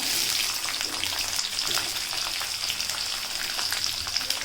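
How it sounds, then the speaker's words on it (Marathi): Grated coconut and onion frying in hot oil for an egg masala curry, a steady bright sizzle with crackling pops, close and fairly quiet, heard alone with no talking. "कांदा सुद्धा आपण आता मस्तपैकी ह्या तेलामध्ये मिक्स करून घेऊया"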